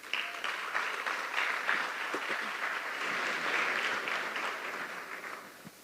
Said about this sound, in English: Please give a lusty round of applause